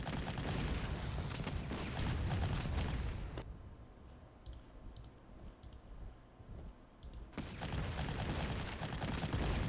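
Artillery fire in the WWII strategy game Panzer Corps, a loud rumbling barrage of booms and crackling blasts that drops to a quieter lull with faint clicks before the barrage returns.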